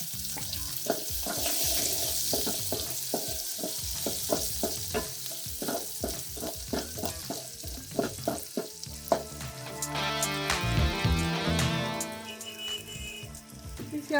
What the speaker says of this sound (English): Into the same oil that you are using, you add the onions and the garlic.